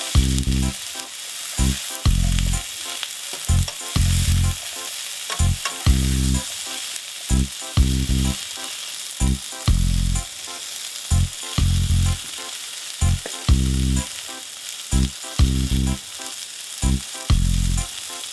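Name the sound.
gnocchi frying in a pan with salmon and vegetables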